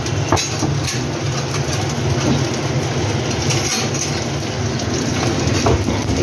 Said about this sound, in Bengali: এবার আমি পেঁয়াজ ফোড়ন দেব।